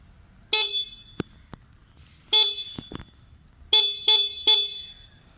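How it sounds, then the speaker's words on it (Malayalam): Hero Glamour BS6 motorcycle horn sounding in several short, loud bright beeps, two single toots followed by a cluster of three quick honks, each cut off abruptly against near silence. "ഇനി നമുക്ക് വണ്ടിയുടെ ഹോൺ ഒന്ന് കേട്ടുനോക്കാം."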